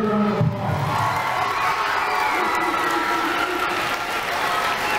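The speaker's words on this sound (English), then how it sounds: "Give them a big round of applause." An audience at a school district gathering applauds and cheers, with loud continuous clapping mixed with whoops and children's shouts that holds steady throughout.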